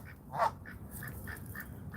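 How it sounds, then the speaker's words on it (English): A big duck or goose lying on a sidewalk at a shopping center gives one close, clear quack, followed by several softer calls over faint outdoor background. "Oh, that's a big duck."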